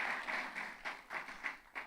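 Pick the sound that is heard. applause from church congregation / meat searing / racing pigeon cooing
applause from church congregation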